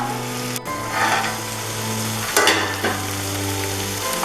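Chicken chukka sizzles and fries in a pan while being stirred, with scraping and clacking utensil strokes over a continuous close hiss.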